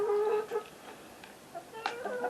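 A white leghorn rooster, a big bird, gives a few harmonic clucking calls up close, with a louder burst near the end and quieter gaps in between.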